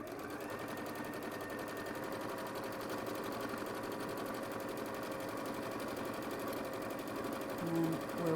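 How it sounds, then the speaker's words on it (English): A sewing machine runs a straight 1/4 inch seam in a steady, continuous mechanical whir, loud and close, holding an even pace from start to finish. "you're just going to sew all the way around and then turn it through. So again, straight sewing, 1/4 inch seam"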